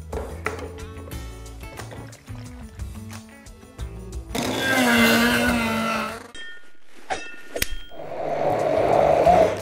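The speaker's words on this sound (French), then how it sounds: "à présent, on va mixer le reste des légumes" An electric blender purees tomato, onion and chili pepper, its motor whirring loudly in two bursts of about one to two seconds each, with music playing before and between them.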